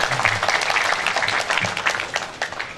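An audience applauds the mayor of Padang at the inauguration of a GMAHK church, producing dense, steady clapping for the full stretch with a few low voices mixed underneath.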